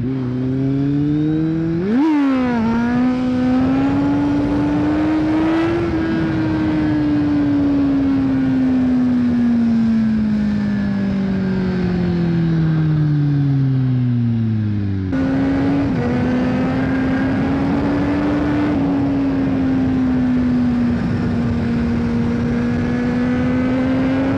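A Kawasaki Z750 four-cylinder motorcycle engine revs hard: a sharp throttle blip near the start climbs to a high, steady howl, sags, then surges again and holds a loud, sustained drone with no talk.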